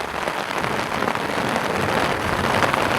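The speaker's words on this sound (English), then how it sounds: "we have torrential flooding here in this area" Torrential rain pours down steadily on a flooded Oklahoma garden after a tornado, a dense continuous hiss of drops striking surfaces, close and loud, with no talking.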